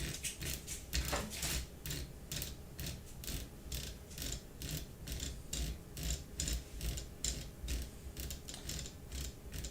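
A Voron V0 3D printer's mechanism is spun by hand to move the bed, giving a quiet, steady stream of rapid ratcheting clicks and gear-like ticks, close up with no voices.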